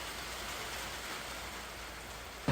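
Steady rain falls in a dense, even hiss of drops on surfaces, constant and moderately loud throughout, ending with a brief louder bump at the close and no voices.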